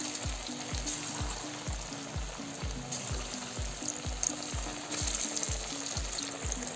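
Taro kofta fritters bubble and sizzle in hot oil with a steady fine crackle, while a rhythmic low thumping repeats every half second or so underneath.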